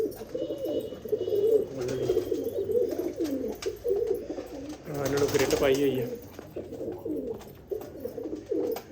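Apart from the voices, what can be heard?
pigeons cooing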